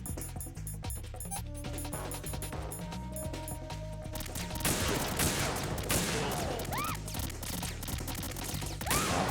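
Gunfire in Metal Gear Solid 2: rapid, dense bursts of shots rattle on continuously over busy game sounds and music, loud and close throughout.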